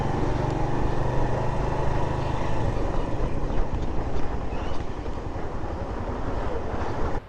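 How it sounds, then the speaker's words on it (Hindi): Waterfall water near Chitral Museum in northern Pakistan rushes in a loud, unbroken roar, with wind buffeting the microphone throughout. "वो हमारा आबशार का पानी है"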